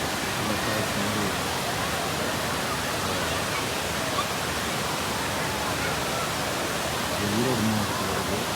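Rushing water pours steadily over the falls at Kodiveri Dam in Erode, a dense, even roar of whitewater that holds constant throughout with no break.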